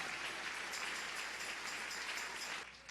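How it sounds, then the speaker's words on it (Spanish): A church congregation claps together in praise during a Spanish-language sermon, a faint, distant wash of steady applause that fades out at the end. "Dale un aplauso al Rey."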